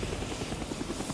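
Continuous rotor chop of the chopper gunner helicopter from Call of Duty: Black Ops, a steady fast pulsing thrum close and loud, heard alone.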